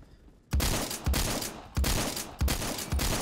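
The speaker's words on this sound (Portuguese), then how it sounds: "Oh my god, tá rolando um tiroteio" Gunfire from a shootout in the Roblox game Phantom Forces: several loud, sharp shots arrive in bursts roughly every half second to second after a brief quiet start, each followed by a short decaying tail.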